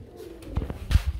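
Pigeons for sale coo softly nearby, giving a few low, throaty murmurs in a brief burst against a faint background.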